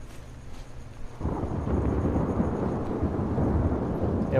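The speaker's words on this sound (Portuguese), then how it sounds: "mal barulho do trovão tá real demais, mano" Thunder in the video game The Last of Us Part II breaks in after a second of quiet, a deep, sustained rumble that rolls on loudly to the end.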